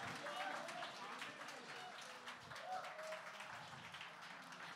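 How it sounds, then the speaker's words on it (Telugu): An audience at a film title and first-look launch event claps for the team, a soft, steady wash of many hands that stays fairly distant and faint, with voices mixed in. "ఒకసారి క్లాప్స్ ఆ టీం కోసం ఖచ్చితంగా."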